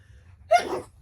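A single short sneeze, a sharp burst of breath after a quiet moment, fairly close and moderately loud, fading quickly into silence.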